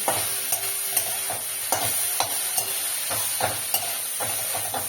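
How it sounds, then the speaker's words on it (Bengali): Drumstick flowers fry over a high flame with a constant sizzle, broken by regular scraping stirs and soft clinks at about one-second intervals. "ফুলটা গ্যাসটা একটু হাই ফ্লেমে দিয়ে ফুলটা এবার একটু ভাজা ভাজা করে নেব"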